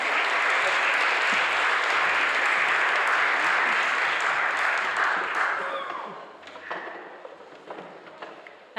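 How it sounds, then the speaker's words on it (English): A congregation applauds a choir at a Sunday carol service in a Unitarian chapel: dense, steady clapping fills the room, then thins out and fades to a few scattered claps near the end. "The choir needs a round of applause for stepping in there."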